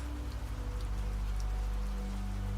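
Rain patters steadily on the glass of an old cottage window, a soft continuous wash of drops under a low steady hum, even and unbroken throughout.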